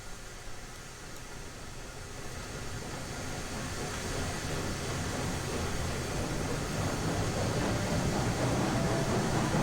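Steam locomotive engine in the train simulation game Railroads Online, a broad steady chuffing roar that builds gradually louder over the whole stretch, with no talk.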